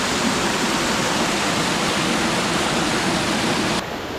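A small waterfall at Pachmarhi rushes in a steady, loud, broadband roar of falling water, close and continuous, with no voices over it.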